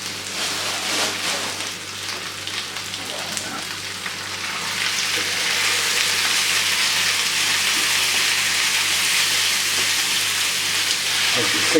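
Mince sizzles in a pan with browned onions and garlic, making a steady, close frying hiss that gets slightly louder partway through and continues without pause.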